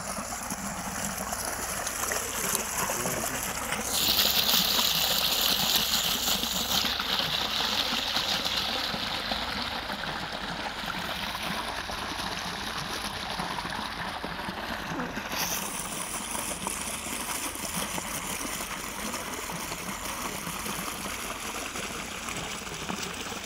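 Water from a village borewell on a farm pours and gushes steadily in a continuous broadband rush, with a few brief shifts in tone and intensity along the way.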